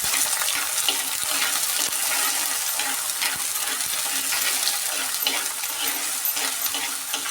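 Shallots and about five garlic cloves sautéing in a pan over medium flame for fish curry, a dense close sizzle with repeated small clinks and scrapes of stirring, no talk.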